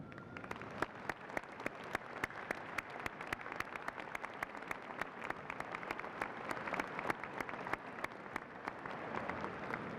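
Sustained applause from a spring 2014 university commencement audience, many hands clapping at an even level throughout, heard from a distance and fairly quiet.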